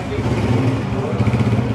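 A Honda 125 Dream motorcycle engine runs nearby with a loud, steady, throbbing rumble.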